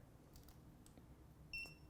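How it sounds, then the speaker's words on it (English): A ViFly drone LED beacon gives one short, faint electronic beep near the end, in a quiet setting after crash detection, with a few soft ticks and rustles before it. "So you hear now there's only one beep."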